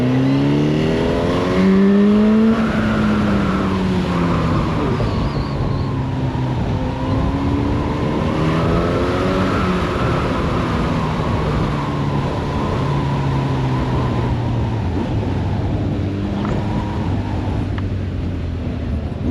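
A Honda CB 1000 Hornet SP (2025) motorcycle engine on a test ride, loud and close, with rising and falling revs through several gear changes over steady road and wind noise, no talking.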